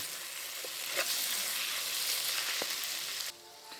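Chopped tomatoes sizzle softly in a pan on a wood-fired stove while a fish curry is made, giving a quiet, continuous frying hiss with a few faint stirring clicks.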